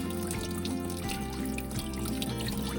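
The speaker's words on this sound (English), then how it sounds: "the plug's out the back of my boat, so the water's just running out" Water runs steadily out of the open drain plug hole at the back of a boat, a continuous close trickle with a few faint drips and no voices.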